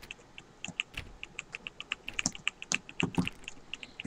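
Rapid, evenly spaced mouse clicks on a door in a video game, a quiet run of sharp ticks repeating several times per second throughout.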